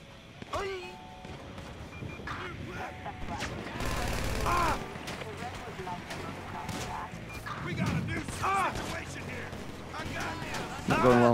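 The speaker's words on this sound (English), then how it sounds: "Who's shooting at me?" Video game gunfire pops in scattered shots and short bursts amid game noise, with someone talking over much of it.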